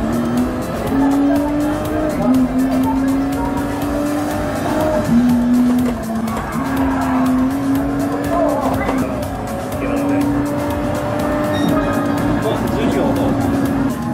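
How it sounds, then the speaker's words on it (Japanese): Simulated Toyota GR Supra engine drones steadily through a racing game lap of the Autopolis circuit, its pitch sliding up and down between shifts, with tire squeal and loud continuous engine tone and people talking over it. "実際にこの今展示されている GR スープラを使ってこのオートポリスのサーキットを走るシミュレーションを行ってもらってます"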